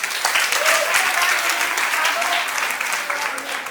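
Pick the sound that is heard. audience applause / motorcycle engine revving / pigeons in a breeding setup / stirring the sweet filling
audience applause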